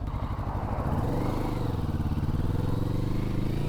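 A 2024 Kawasaki Vulcan S 650 motorcycle engine thrums steadily while riding, a loud, continuous low pulsing drone with wind rumble and no pauses.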